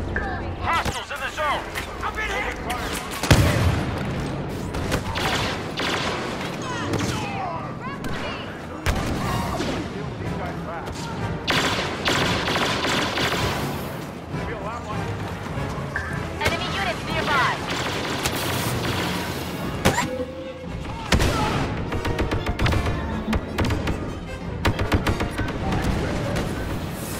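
EE-3 blaster rifle fire in a Star Wars video game rattles almost without pause in dense, loud volleys, with explosions and shouted voices mixed into the battle.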